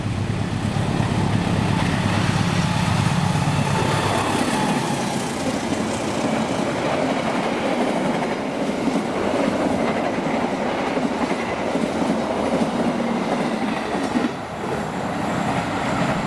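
A Fajar Utama passenger train rolls past on the rails, loud and close throughout, with a steady rumbling roar and a rhythmic clatter of wheels over the track joints that eases slightly near the end.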